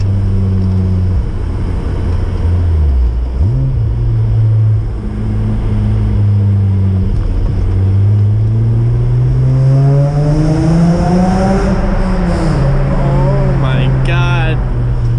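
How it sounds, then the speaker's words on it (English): A loud, raspy exhaust from an Acura TL SH-AWD with an RV6 exhaust drones and rises in pitch as the engine revs up, booming and echoing inside a tunnel. "It's so raspy, it sounds like a friggin' Civic with a fart can."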